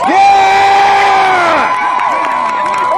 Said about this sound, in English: If you believe the defendants are guilty and should be impeached and punished, applause or shout now.